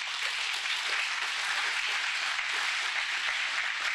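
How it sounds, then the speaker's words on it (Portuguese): A church congregation claps loudly in a steady, dense round of applause that fills the room without a break. "Aplauda bem forte a senhora."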